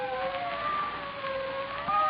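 Police sirens wail from a distance as they approach, a steady rising and falling tone at moderate volume that plays alone without voices.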